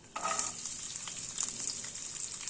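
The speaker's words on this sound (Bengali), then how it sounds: "এটা ভালো করে একটু ভেজে নেব" Peanuts and chopped coconut hit a hot oiled pan with a sudden loud sizzle that settles into a steady, bright frying crackle up close, no talking.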